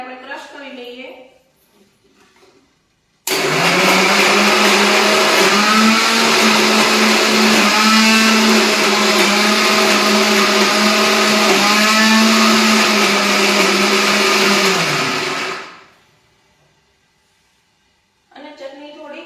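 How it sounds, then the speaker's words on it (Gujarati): A kitchen mixer grinder whirs loudly for about twelve seconds, crushing coriander and other chutney ingredients, its motor pitch dipping and rising a few times before it winds down. Brief talk comes before and after. "તો હવે મિક્સરમાં બધું મેં મૂકી દીધું છે. કોથમીરને હવે આપણે ક્રશ કરી લઈએ."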